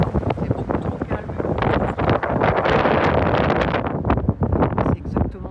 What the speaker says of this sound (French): Il y a beaucoup de vent, on n'entend pas grand chose.